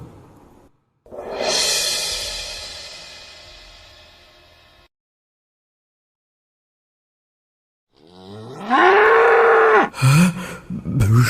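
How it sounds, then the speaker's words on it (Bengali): A bull lets out loud, close moos: one long drawn-out bellow that fades away, a stretch of silence, then another forceful low call with a rising and falling pitch. "ষাঁড়!"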